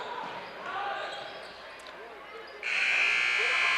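Quiet crowd murmur and commentary at a Wheelersburg vs Northwest game in 2019, then a loud, sustained end-of-quarter electronic buzzer blares and holds to the end.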